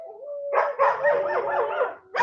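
Several dogs bark and howl together in a long, wavering chorus, loud and fairly close, with a high tone sounding faintly beneath.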